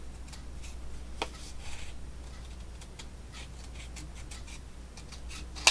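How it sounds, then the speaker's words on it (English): Scissors trimming a scanned paper piece at an angle for a steampunk folio craft: soft, quiet snips and paper rustles with faint scraping, fairly close, under a low steady hum. "I'm going to trim this a little bit because it's white right here from my scan and cut"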